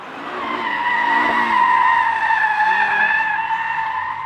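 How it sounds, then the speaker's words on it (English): A 2022 Audi RS 3 drifting on a track, its tires letting out a loud, sustained squeal that holds steady for several seconds, close and dominant with no voices. "Now, on to the drifting"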